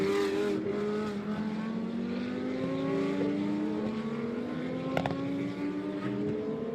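A KTM race car engine in a sim racing game during a GT2 European Series race drones steadily with rising revs, moderately quiet and continuous, with no one talking.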